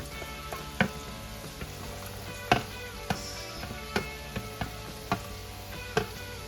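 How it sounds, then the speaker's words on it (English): Chopped tomatoes sauté in a pan for palak paneer, a steady hiss of frying with regular sharp knocks of a spoon stirring, close and fairly quiet with no talk. "And then we'll add the chopped tomatoes."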